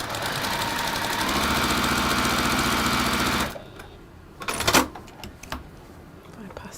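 Electric sewing machine stitching textile seams, a steady fast motor whir running continuously for about three and a half seconds before stopping, followed by quieter handling sounds and a short clatter.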